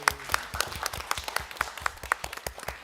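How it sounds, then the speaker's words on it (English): Clapping at a board of trustees meeting, with distinct individual claps in a steady rhythm over a softer applause bed. "You deserve all the rounds of applause we've been giving you tonight."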